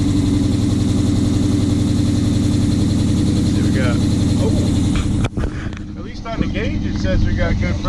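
2006 Chrysler 300 SRT8 V8 idling just after a camshaft install, a loud, steady low rumble with mechanical ticking that dips briefly near the end while people talk nearby.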